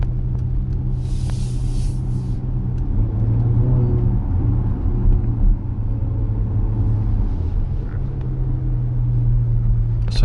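A Porsche Panamera e-hybrid's engine runs while the car drives at night, a steady low rumble with road noise and a faint whir, constant and fairly loud from inside the cabin.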